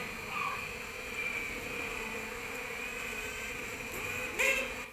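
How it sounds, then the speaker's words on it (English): A honeybee performing the waggle dance inside the hive, picked up by a microphone right next to it, gives a soft, continuous buzzing hum with a brief louder burst near the end over faint background hive noise. "It sounds loud to us because there's a microphone right next to the dancing bee here."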